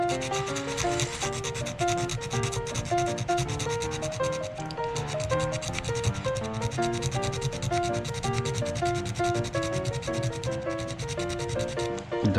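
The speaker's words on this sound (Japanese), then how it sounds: "これ削った後はあれです、こっちがあんまり綺麗に削れてないな" A file scrapes back and forth over a plastic model truck bumper from an Aoshima 1/32 Hino trailer kit, giving a continuous, even rubbing rasp close to the mic.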